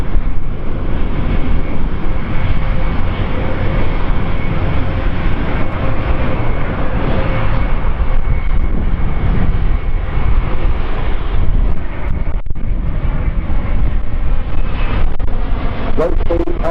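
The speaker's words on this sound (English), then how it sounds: "the 350 continues to fly past" An Airbus A350 airliner flies past at the Farnborough Airshow, its loud, steady jet roar filling the air continuously with a broad rumble and wind buffeting, holding strong throughout with a brief dip near the end.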